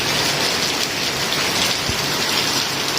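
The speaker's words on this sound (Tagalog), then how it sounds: "lakas pa rin ang ulan, no?" Heavy afternoon rain pours down in a dense, steady hiss and patter, loud and unbroken throughout, with no voices.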